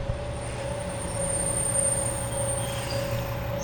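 A train pulls in on the Kisuki line in rural Japan, a steady rolling rumble with a sustained high wheel squeal ringing over it, close and loud throughout with no voices.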